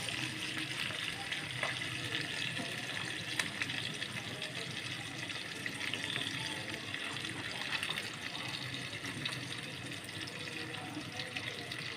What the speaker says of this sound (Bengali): এখন তেল গরম হয়ে গেছে মাছগুলো দিয়ে দিচ্ছি দিয়ে দিচ্ছি সবগুলো মাছ